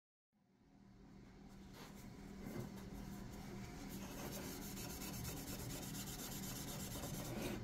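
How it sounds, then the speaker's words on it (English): A power sander rocking along the curved swoop of a wooden axe handle, giving a continuous, close, steady abrasive whir that starts abruptly and holds evenly throughout. "So just taking that sander and kind of rocking it up to that swoop."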